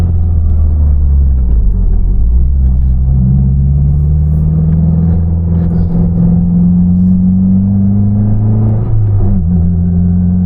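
A 2023 Subaru WRX drives downhill and slows toward a roundabout, its engine a loud, close rumble whose pitch slides up and down steadily under road noise.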